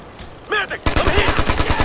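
Heavy automatic gunfire in Ghost Recon Future Soldier multiplayer on the Pipeline map breaks out after a brief voice-like tone, as rapid loud bursts of shots rattle on steadily and close for over a second.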